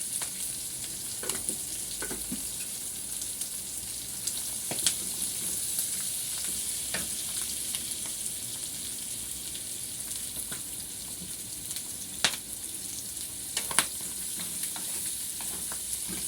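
Homemade tomato sauce being stirred in a pan: a steady soft sizzle and bubbling hiss throughout, with occasional light clicks and scrapes of the spoon against the pan.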